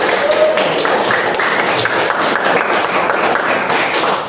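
Classroom students applauding together: a short burst of dense, close clapping and tapping that holds steady for several seconds before easing off.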